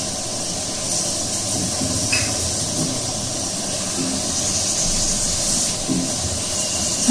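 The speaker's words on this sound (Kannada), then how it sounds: "ನನ್ನ ಕುಕ್ಕರ್ ಆನೆ ಸನಿ ಅಂತ ಇದೆ. ನಮಗಿದೊಂಥರ ಸಿಗ್ನಲ್." Steam escapes from a kitchen pressure cooker as a loud, sustained hiss that holds steady for several seconds, with light household noise underneath.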